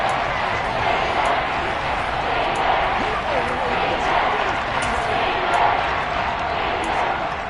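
A dense stadium crowd at a Raiders versus Chiefs football game roars steadily ahead of a big third down, a continuous loud wash of cheering with no clear breaks.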